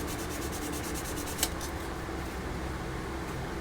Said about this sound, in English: I'm going to use my actual sandpaper just to help it